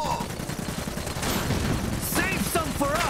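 Rapid gunfire from the World War I-era strategy game Iron Harvest during an assault on a train station, a busy crackle of shots with voiced unit callouts cutting over the battle.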